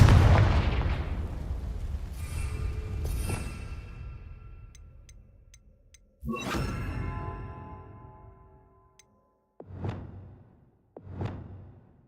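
A Confringo fire spell from Hogwarts Legacy, heard as a loud whooshing burst with a rumbling blast that fades out, followed by a second sharp impact and two short crackling bursts near the end.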